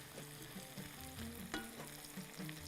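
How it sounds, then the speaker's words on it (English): Onions sauté in a pan for Madrooba, making a soft, steady sizzle with occasional faint stirring scrapes. No voices are heard. "Let it saute there first."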